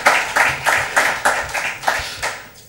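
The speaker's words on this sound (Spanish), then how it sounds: "¿Le damos un aplauso?" Audience at an engineering conference on building management and maintenance claps after a talk; about eight rhythmic, fairly even claps close by, fading out at the end, with no voices.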